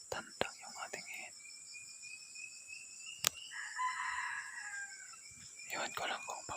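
A rooster crows in long, drawn-out calls at moderate distance, with a sharp click and some faint rustling and murmuring around it.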